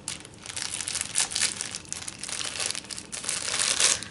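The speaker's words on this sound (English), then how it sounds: "I cut the packaging." Plastic packaging crinkles and crackles loudly up close as it is cut open, with bursts of rustling that swell toward the end.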